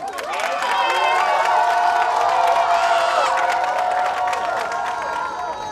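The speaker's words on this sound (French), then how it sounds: "applaudissez pour vous-même" A live show audience applauds and cheers in a loud, continuous wash of clapping and whoops that holds steady from start to finish before tapering slightly.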